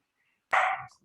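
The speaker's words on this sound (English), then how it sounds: "That's because I have a guard dog." A small guard puppy lets out one sharp, close bark, fairly loud and brief, followed by a short trailing yip.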